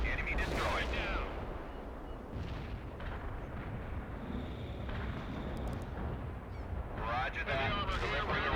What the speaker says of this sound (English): Delivering a range of shells at target coordinates.